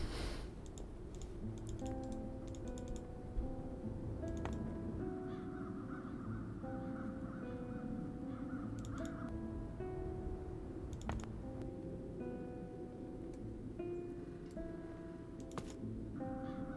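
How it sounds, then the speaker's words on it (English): Crows caw in the Chains of Satinav video game, faint repeated calls spread across a quiet background of soft game music and clicking sounds. "Those peculiar crows."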